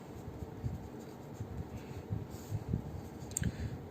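Chalk or marker writing on a board during a physics lecture on magnetics, giving soft scratchy strokes in an uneven rhythm, close and quiet over steady room hiss with no speech.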